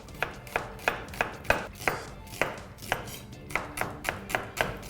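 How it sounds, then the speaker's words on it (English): Knife cutting a red onion into thin slices on a board, about fourteen crisp, evenly spaced chops heard up close in a quiet kitchen, with a brief pause midway. "I'm going to cut a red onion into thin slices."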